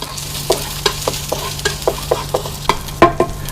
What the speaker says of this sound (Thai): พอน้ำมันร้อนแล้วใส่คาหั่นแว่นลงไป ตามด้วยตะไคร้ซอย หอมแดง พริกจินดา ใบมะกรูด แล้วผัดให้มีกลิ่นหอม